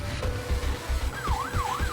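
A fire engine siren wails at a boarding house fire in Madiun, East Java, its rising and falling tone loud and near over a low rumbling engine.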